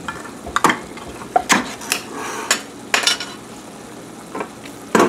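Hamburger meat frying in a pan on medium-high heat for chili, a steady soft sizzle broken by sharp scrapes and clinks of a utensil against the pan at irregular intervals.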